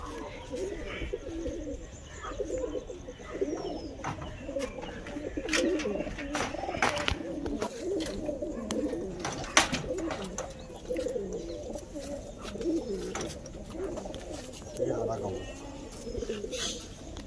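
Soft, repeated cooing of pigeons at a pigeon keeper's loft in Nagpur, with scattered wing flaps and clicks close by, and someone talking over much of it.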